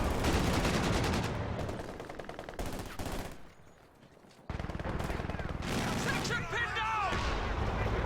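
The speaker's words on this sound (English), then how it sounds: "Quad still working its magic, suppressing those squads effectively" Quad anti-aircraft gun firing in Company of Heroes 2, sustained rapid bursts of gunfire with a brief quiet gap midway before the loud firing resumes, mixed with other battle noise.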